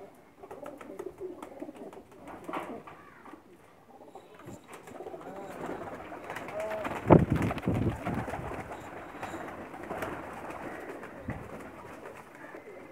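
Male racing pigeons coo in soft, low throaty bursts at close range, repeating irregularly over faint background ambience with no speech.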